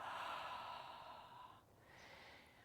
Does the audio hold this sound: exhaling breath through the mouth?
yes